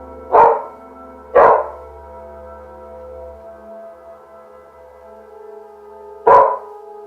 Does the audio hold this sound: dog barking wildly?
yes